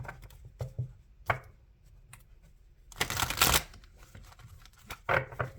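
A Rider-Waite tarot deck being shuffled in irregular bursts of papery riffling and slapping, close and crisp, with a longer, louder flurry in the middle and quiet pauses between.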